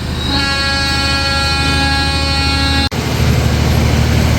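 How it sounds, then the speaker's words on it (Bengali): A local IR Mail train at Amnura Junction sounds a long, loud, steady horn blast lasting nearly three seconds, then cuts off abruptly, leaving the rumble of the train rolling past nearby. "এই তো ট্রেনটি"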